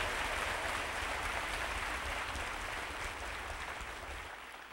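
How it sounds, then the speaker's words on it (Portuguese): A congregation at a church novena gathering gives a short burst of dense, steady clapping that fades slightly toward the end, heard at moderate distance. "Agora uma salva de palmas para aqueles que rezam conosco lá de casa."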